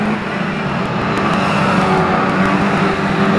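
Saloon stock cars and bangers race hard around the Mildenhall oval, their loud engines roaring steadily as they pass close by, with no one talking.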